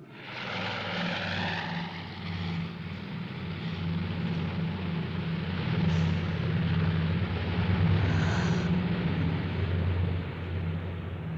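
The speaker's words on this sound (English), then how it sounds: "those airplanes seem like they're coming right at you" A propeller airplane drones steadily overhead along a road, a loud sustained engine rumble that swells slightly louder midway and holds.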